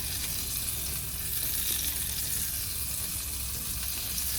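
Butter and vegetable oil sizzle steadily in a pan, a continuous close hissing crackle with no talk.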